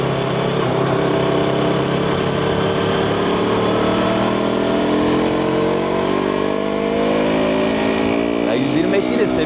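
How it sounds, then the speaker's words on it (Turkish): A KTM RC125 motorcycle engine hums steadily on a road, its pitch sliding gently down as the throttle is softly closed before stopping, with wind noise throughout and a rider's voice talking over it. "Şurada duracakları için çok çok çok narin gaz kapatıyorum."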